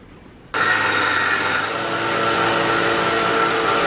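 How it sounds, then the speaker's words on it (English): A grinder cuts in abruptly and holds a loud, steady roar as it grinds down a wooden knife handle and its pegs, close by with no talking. "we're going to go ahead and take it to the grinder and we're going to start grinding all the wood down and these pegs"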